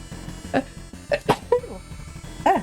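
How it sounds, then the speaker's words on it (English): A few short, sharp vocal bursts, a sudden sneeze-like explosion among small throaty sounds, close to the microphone with a steady hum underneath. "Sudden sneeze. Sorry. I couldn't mute in time."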